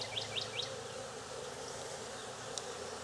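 A swarm of honey bees festooning during hiving in Jacksonville, Florida gives a steady, even hum with no pauses, while a few faint high bird chirps flick in near the start.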